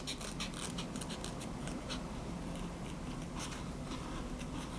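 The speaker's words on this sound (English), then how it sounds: "I'm going to cut it out with these scissors." Scissors snip and scrape through foam in quick, irregular bursts, a soft crisp cutting sound close by and fairly quiet, with no talking.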